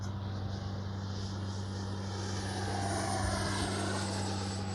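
A FlyFans L-39 radio-controlled model jet runs at full throttle, producing a steady droning whine with strong low hum tones and a slight swell toward the end, heard without voices.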